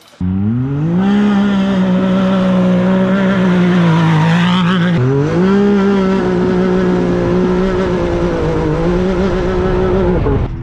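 Loud, raspy car exhaust roars through a rising rev, drops, then revs again and holds a throaty drone, very close.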